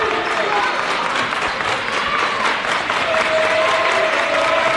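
Home crowd at a high school boys' district semifinal basketball game applauds and cheers steadily, a loud, dense wash of clapping filling the gym without pause.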